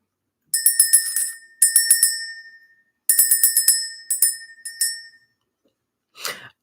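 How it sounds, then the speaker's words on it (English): A small bright bell, like a bicycle bell, is rung in several quick trilling bursts separated by short pauses, crisp and close, followed by a brief soft rustle. "So let's go ahead, ring the bell."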